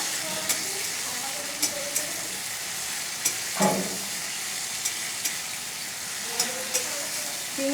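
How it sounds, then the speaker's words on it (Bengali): Shrimp sizzle steadily in a hot pan beside slit green chillies, a continuous frying hiss broken by occasional sharp spatula taps and clinks against the metal. "চিংড়ি মাছটা হালকা করে ভেজে নেওয়া হয়ে গেছে"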